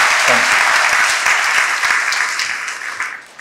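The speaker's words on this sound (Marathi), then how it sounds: "फादर डॉमिनिक गियाब्रिओ यांची जोरदार टाळ्या वाजवून आपण त्यांना धन्यवाद देतो" A church congregation gives a burst of loud, dense applause that fills the hall, steady at first and then gradually tapering off.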